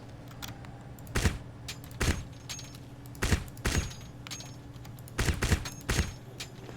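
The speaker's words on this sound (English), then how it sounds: "Listen to the bullet casings hitting" Small metallic bullet casings clinking onto the ground in the Crysis shooter on PC, a few scattered bright ticks in irregular bursts over a low steady hum of game ambience, with no talk.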